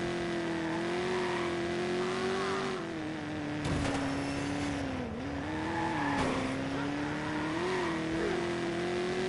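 Race car engines in a video game hold a steady droning whine that rises and dips with revs, continuous and fairly loud, with brief tire squeals and occasional talk faintly underneath.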